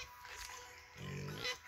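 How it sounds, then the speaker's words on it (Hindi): Pigs kept on a rocky hillside grunt and oink in short bursts, close by and moderately loud, with a brief rise of grunting near the end and outdoor background noise throughout. "सात आठ गो है सुअर।"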